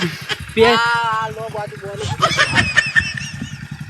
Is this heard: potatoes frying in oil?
no